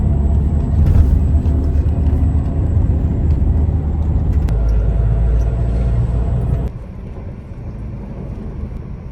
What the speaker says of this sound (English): let's go on a bus ride